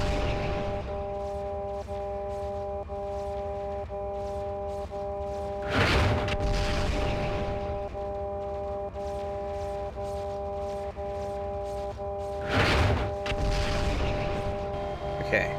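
Artillery strikes land in MechWarrior 4: Vengeance as two heavy booming impacts several seconds apart, over a steady mechanical hum and cockpit tones.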